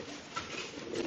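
Pigeons kept for breeding in Serang, Banten coo softly against a steady rushing background noise, with no talking.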